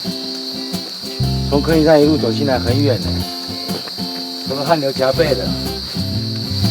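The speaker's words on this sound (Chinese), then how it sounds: "一路上 听到都是虫鸣鸟叫" Crickets chirp outdoors along a country walking path, a steady high-pitched trill that holds throughout while two people talk nearby.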